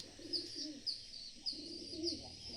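Pigeons coo softly and repeatedly in low murmuring phrases while a parent pigeon feeds its chick, with faint higher chirps overhead; no one speaks.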